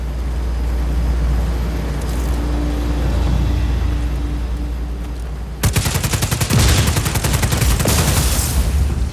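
Rapid automatic gunfire in Just Cause 4 bursts out suddenly midway as a generator is shot. The loud, fast rattle follows several seconds of steady vehicle-like engine rumble.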